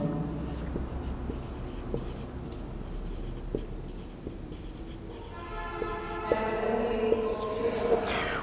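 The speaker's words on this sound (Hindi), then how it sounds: "हाँ लिख देता हूं।" Chalk or marker writing on a board during a chemistry lecture, soft repeated scratching taps and strokes, close and faint, with a brief squeaky stretch near the end.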